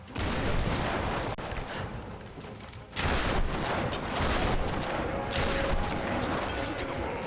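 Grenade launcher rounds burst in rapid succession in a video game, a dense, continuous barrage of loud explosions and crackling blasts with a brief dip partway through. A voice is faintly present beneath the noise.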